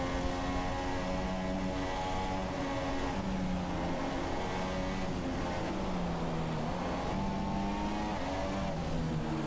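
Race car engines heard onboard during a racing game, a steady loud drone whose pitch rises and falls with gear changes as cars go through a section of track.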